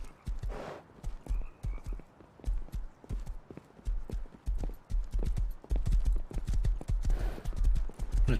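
A horse's hooves clip-clop steadily in a video game, a continuous brisk rhythm of close, clear hoofbeats that runs the whole time with no talk over it.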